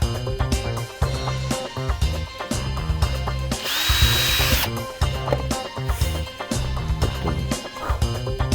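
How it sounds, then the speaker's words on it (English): Power drill boring holes in wood in a home workshop while making beer flight boards, with a steady loud motor whine and repeated bursts of drilling through the clip, over a busy workshop background. "Drill those out after we finish this part."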